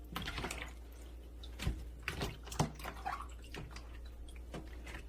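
Brine-salted green onions are lifted out and set in a colander for kimchi, with irregular splashing drips and water trickling for a few seconds.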